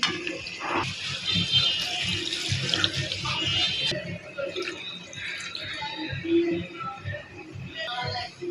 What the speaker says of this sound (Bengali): এই অবস্থায় আমি দিয়ে দেব 1/2 লিটার পরিমাণের পানি